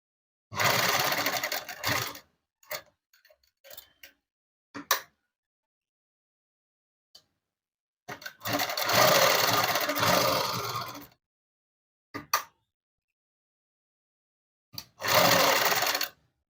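Sewing machine stitching thread in several separate runs, loud fast mechanical whirring bursts of one to three seconds, divided by silences and a few small clicks and taps.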